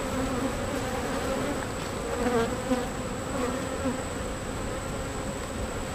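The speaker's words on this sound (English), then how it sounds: "It's always interesting when you can hear the bees start to get agitated." Agitated honeybees buzzing at an open hive, a dense continuous drone that holds steady and close for the whole stretch, with no voices.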